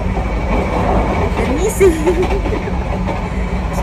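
Broadband rumble and rattle inside a rocking passenger train on a trip to Semarang, steady and loud throughout, with a person speaking over the noise.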